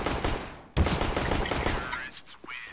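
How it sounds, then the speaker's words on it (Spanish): A burst of rapid gunfire from CS:GO, sharp and loud, followed by a few fainter shots and a short electronic sound near the end. "Le he pegado como tres tiros."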